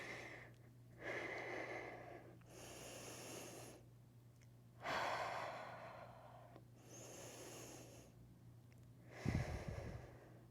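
Slow, deep breathing during a fat-positive yoga session, with soft, long, rhythmic breaths in and out over a steady low hum and a faint thump near the end.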